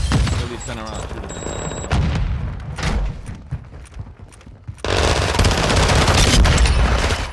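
Gunfire in a competitive video game shooter match in diamond-ranked lobbies, with rapid loud bursts of automatic fire that swell and recede. Voices talk over parts of it.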